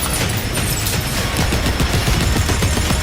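Dense, continuous gunfire from Punisher guns in the Marvel Zombies video game, a loud sustained barrage of rapid shots filling the whole stretch with no pauses.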